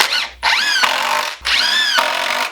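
Power drill driving screws into a garage storage shelf, two close, loud bursts of whining motor that rise in pitch as each screw seats, separated by brief pauses.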